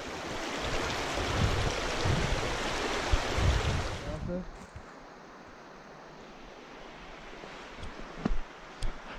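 A creek flows loudly and steadily with a rushing, broadband wash for about four seconds, then drops to a softer background murmur with a few small knocks near the end.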